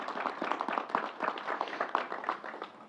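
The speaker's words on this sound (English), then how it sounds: "Let's give the whole team at the State Fair and the National Guard a round of applause" Audience applause for the State Fair team and National Guard, a brief burst of scattered hand clapping from a modest crowd, moderately loud and fairly close.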